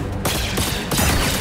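Rapid bursts of blaster gunfire in Star Wars Jedi: Survivor, loud and close, firing in two dense volleys with a short gap between.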